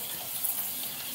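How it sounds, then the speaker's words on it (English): Running water from a tap or shower soaking hair, a steady close hiss and splash that stays even for the whole short moment, with no voices. "we're gonna wet the hair."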